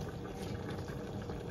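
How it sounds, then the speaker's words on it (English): Water pouring into a pot of Jamaican stew pork, a soft continuous low gurgling wash, faint and brief. "So I'm just going to add some water on it"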